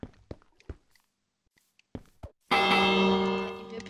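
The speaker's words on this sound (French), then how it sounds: "Hop, je sonne la cloche." Bell struck in Minecraft: a few soft footstep thuds, then one loud ringing toll at close range with a long harmonic decay that slowly fades.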